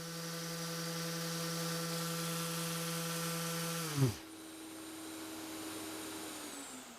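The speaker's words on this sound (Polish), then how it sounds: "Teraz odkurzacz jest na maksa ustawiony" A vacuum cleaner drones steadily at maximum setting, then its pitch drops sharply as it shifts to a lower, quieter hum for the rest of the clip.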